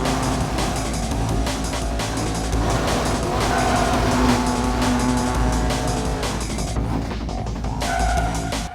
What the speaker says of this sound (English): his extra lowered street racing car cannot drive on the gravel road